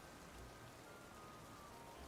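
Rain falls in the Pokémon Scarlet and Violet video game, a faint, steady hiss of patter with no other sound over it.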